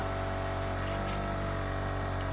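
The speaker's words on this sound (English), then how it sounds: "we're going to crank our noisy airbrush up" A noisy airbrush sprays green camouflage paint onto a 1/72 scale model, a steady close hiss of compressed air with brief pulses, no voices.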